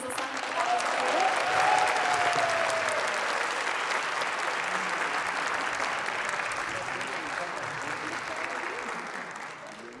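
Loud, sustained audience applause at a Kayseri Caucasian association cultural night as the music director is invited on stage, a dense steady clapping that fades slightly toward the end.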